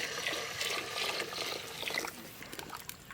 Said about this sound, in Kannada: ಇದು ನಾನು ಕುದಿಯುವ ನೀರನ್ನು ಹಾಕಿದ್ದು